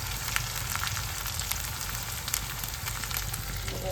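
A few dried red chillies sizzle steadily in hot oil with onion and ginger-garlic paste for a jackfruit curry, a constant close crackle with no speech.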